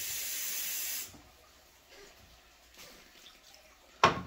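A kitchen tap pours running water loudly for about a second and then stops. A quiet stretch with faint movement follows, and a short sharp splash comes at the end.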